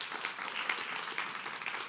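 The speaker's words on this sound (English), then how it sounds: "I want to get another really big round of applause for all of these speakers" An audience at a leadership communication talk applauds the speakers with a continuous, soft wash of many hands clapping, even and distant, lasting about two seconds.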